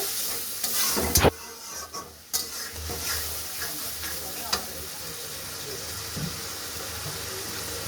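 Fish curry with salt and water being stirred in a pan for a tomato-cooked surma fish bhuna, giving soft scraping strokes and a low simmering hiss, with a couple of louder clanks early on.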